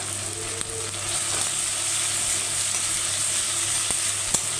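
Chopped ginger frying in hot oil for a soybean, potato and egg dish, a steady close sizzle with crackling broadband hiss and a few sharp pops, no voices.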